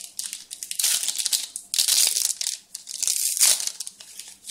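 A trading card pack wrapper from a 2013 football card break is crinkled and torn open close up in several bursts of crackling foil, quiet, with no voice.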